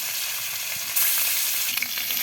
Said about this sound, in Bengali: সিমের বিচি রান্না করার জন্য মাছগুলো ভেজে নিচ্ছে